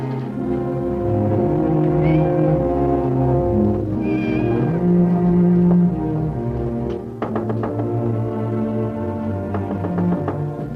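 A cat meows in a 1952 film, its cries rising over a steady orchestral score that runs throughout, with a few light taps near the end.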